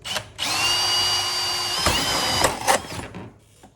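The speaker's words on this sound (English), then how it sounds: "I'll drill a hole." A power drill whines at high speed for about two seconds as it bores through a Can-Am X3 Max lower door panel, then slows, followed by a few clunks and handling noises.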